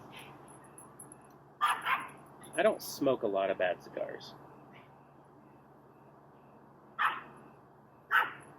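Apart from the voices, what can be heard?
dogs barking at each other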